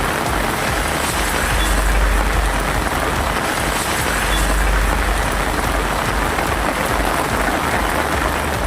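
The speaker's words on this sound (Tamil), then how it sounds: "கொடைக்கானல் மற்றும் சுற்றுவட்டார பகுதிகளிலும் கனமழை கொட்டியது." Heavy rain pours over Kodaikanal and its surrounding hill areas, a loud, dense and steady hiss of water that fills the whole stretch without letup. No one speaks.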